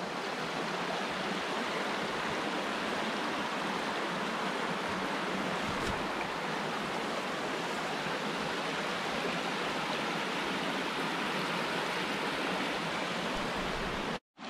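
A mountain stream flows past a rock slab near Upper Gartmore Falls in Maskeliya, Sri Lanka, giving a continuous, dense rushing wash of water that is close, steady and unbroken, with no voices.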